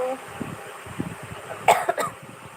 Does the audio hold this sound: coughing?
yes